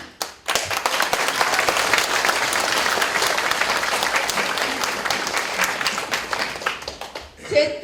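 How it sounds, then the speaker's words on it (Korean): Loud, sustained applause from a crowd at a Korean political speech, starting abruptly after a brief pause and holding strong for several seconds before tapering, with a voice briefly heard at the end. "그런 의미로 박수 쳐주시는 거죠"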